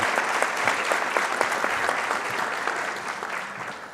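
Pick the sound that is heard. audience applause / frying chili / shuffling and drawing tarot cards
audience applause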